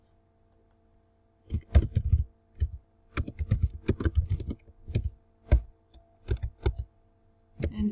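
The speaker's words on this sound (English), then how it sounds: "I can also type on the text." Keys clatter on a computer keyboard, close and crisp, in short irregular bursts of clicks with brief pauses between runs of typing.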